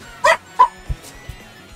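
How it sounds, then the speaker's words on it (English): Pet dogs bark twice indoors, close by, in quick succession, followed by a couple of soft low thumps. "Hopefully they, my dogs will stay mostly quiet during this, but no guarantee."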